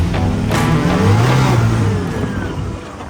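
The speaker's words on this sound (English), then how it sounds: "The turbo noises." A Can-Am Maverick R turbo side-by-side runs on sand dunes, its engine revving loudly up close with a whirring turbo whine over a rough, wind-buffeted roar that eases slightly toward the end.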